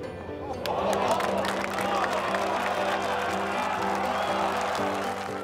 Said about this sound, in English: Garcia's fans soon had cause to cheer.